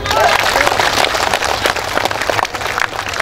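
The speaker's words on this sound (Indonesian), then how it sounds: "Tepuk tangan dulu." Audience applause at a Bugis-language Islamic sermon by a preacher: dense, steady clapping from a crowd, lasting throughout at fairly close range, with voices mixed in.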